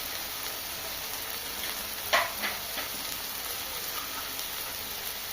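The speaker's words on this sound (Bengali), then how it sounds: "পরিমাণ মতো চিনি দিয়ে ভালো করে মশলাটা নেড়ে নেবো। কষে নিতে হবে যতক্ষণ না মশলা থেকে তেল ছাড়বে।" Spice paste of turmeric, chili, cumin and coriander powders with sugar frying for katla fish kalia, a steady soft sizzle throughout with one brief scrape of stirring, moderately faint and close, no talking.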